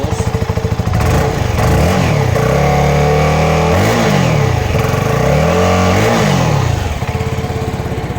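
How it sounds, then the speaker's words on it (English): A CFMoto 300NK motorcycle with a 298cc single-cylinder engine and underbelly exhaust revs loudly and close up, rising and falling in three repeated throttle blips over a steady idle. "This is the single cylinder 300NK, which is single cylinder 298cc engine."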